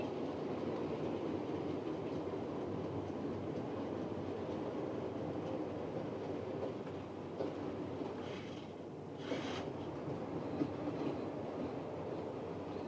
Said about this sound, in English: A 6-piston steamer, wow.